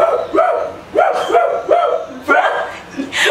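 A person imitates a dog, giving a series of short, loud bark-like yelps in quick bursts, close up.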